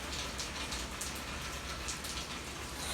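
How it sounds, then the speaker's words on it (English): Steady rain falling on a rainy day, a dense, even hiss of drops that holds at a moderate level throughout with no voices. "it's raining today"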